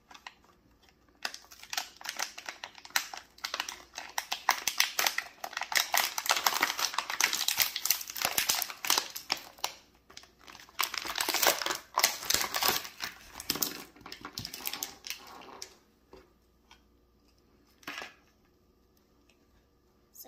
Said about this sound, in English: Do I have to tear the box too